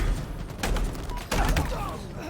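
Shotgun blasts in a competitive video game match, a few heavy booming shots spaced apart amid game noise, with a commentator talking over them.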